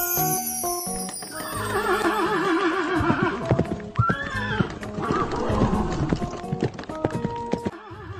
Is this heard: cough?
no